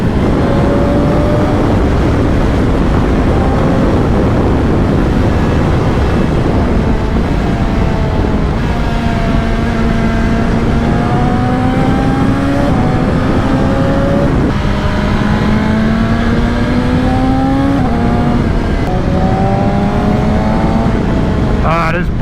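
A 2025 BMW M1000XR motorcycle under way, its engine droning loud and close with rising and falling pitch through gear changes, buried in heavy wind rush, with a rider talking over it at points.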